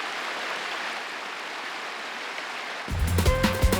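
Cold spring water rushes at the Vevčani springs as a steady, loud broadband roar, cut off near the end when music abruptly takes over.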